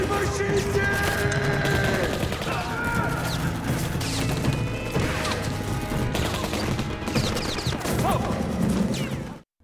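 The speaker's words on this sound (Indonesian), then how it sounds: "tiba-tiba mereka diserang oleh pemerintah hingga aksi baku tembak pun gak bisa dihindarkan" A film shootout scene fills with dense, overlapping gunfire volleys, crashes and impacts, continuous and loud throughout, with a voice speaking over the action.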